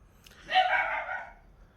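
A single short dog bark or yelp rings out fairly close in a quiet outdoor setting, one burst lasting under a second with no talk.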